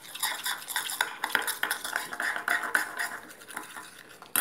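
A spoon stirs olive oil into a homemade spa recipe mixture in a bowl, giving a busy, continuous clinking and scraping with a quick uneven rhythm and no talking.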